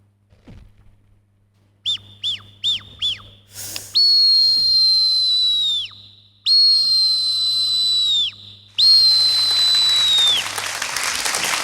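A person whistles an imitation of a kite that has spotted a chick, first four short quick chirps, then three long piercing whistled calls that bend downward at the end, loud and close.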